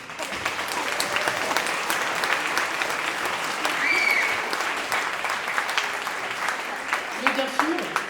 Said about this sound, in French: vous avez le droit de m'applaudir